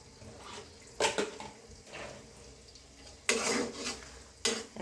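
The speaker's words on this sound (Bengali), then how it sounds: "এখন সব উপকরণই ভালো করে ভেজে নিচ্ছি পারফেক্টভাবে।" Spices and ingredients for a sun-dried oil pickle being fried in a pan, heard as intermittent metallic clanks and scraping stirs against a soft background hiss.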